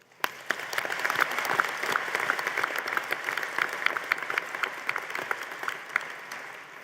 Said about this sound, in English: A round of applause for the people who helped us get here today.